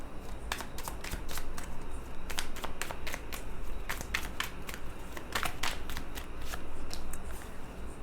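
Tarot cards being shuffled, repeated crisp riffling bursts in quick irregular runs, close and clear over a quiet background, with no speech.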